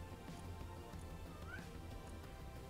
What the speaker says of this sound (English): Yes, cat. Hello, cat.